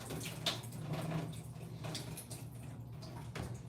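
Tap water runs into a kitchen sink during a quick rinse, a steady soft splashing and trickle, close but fairly quiet and unbroken throughout.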